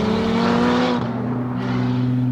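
Lotus Emira engine climbing past 4,000 RPM, a loud sustained rasp with clear harmonic tones that shift down slightly partway through, heard from inside the car with no talk.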